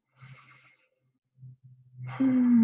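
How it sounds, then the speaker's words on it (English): A slow deep breath during an EFT tapping session, with a soft inhale, a pause, then a longer voiced exhale and sigh, close and quiet with no talk over it. "breathing while you're tapping."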